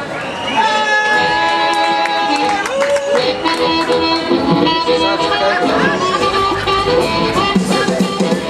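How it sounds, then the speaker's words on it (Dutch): An audience at a blues night in Enschede applauds and cheers after a band's set, a dense, sustained wash of clapping and crowd noise with an amplified voice speaking over it. "Geef ze een groot applaus."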